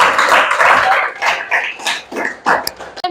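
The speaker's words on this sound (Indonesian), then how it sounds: "tepuk tangan dong" Classroom of students clapping hands together during a class game, a dense burst of claps and cheering voices that swells and fades in waves before stopping abruptly.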